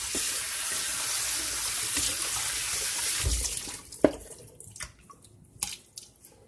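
Water runs steadily over hibiscus sabdariffa calyces being washed, a loud rushing stream that cuts off partway, leaving sparse drips, splashes and handling knocks close by.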